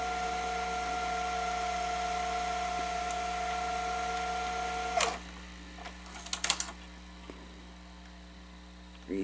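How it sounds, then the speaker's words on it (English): A Sony SL-810D Betamax machine runs a fast tape wind, a steady mechanical whir with a high tone that stops abruptly midway, followed by scattered clicks and clunks. "That's actually moving pretty quick for a beta machine."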